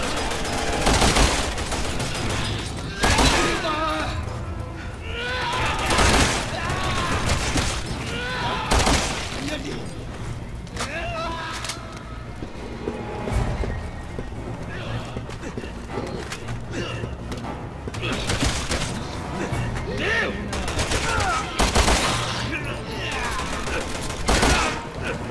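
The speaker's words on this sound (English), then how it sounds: "Piers, I'm taking a little fire here" Gunfire and battle noise in the video game Resident Evil 6. Dense bursts of shots and impacts run throughout the clip under a continuous music and effects bed, and several sharp cracks stand out at moderate loudness.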